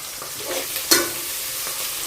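Onions sauté in a pan for a home-cooked biryani, with a soft continuous sizzle, a few stirring scrapes and one sharp utensil click near the middle, all close and fairly quiet.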